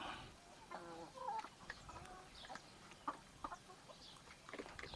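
Scattered clucks from a small flock of chickens outdoors beneath trees, short calls and soft murmurs coming at irregular intervals against quiet surroundings.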